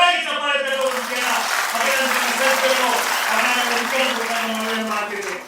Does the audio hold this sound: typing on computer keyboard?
no